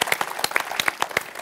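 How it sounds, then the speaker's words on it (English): Audience applause from a sold-out crowd at a public talk on Minnesota identity, hosted at the Walker, with dense, steady clapping filling the room from start to finish. "Okay. Applause."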